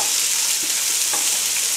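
Sliced onions fry in hot oil for mutton chukka, a steady bright sizzle with faint stirring clicks, brief and uninterrupted by speech.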